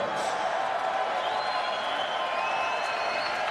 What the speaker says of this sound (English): let's have a round of applause for these 2 middleweight warriors